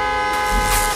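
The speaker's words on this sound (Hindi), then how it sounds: "हॉर्न बजाओ," Van horn honking in a long, loud, sustained blare under steady traffic rumble, with no voices over it.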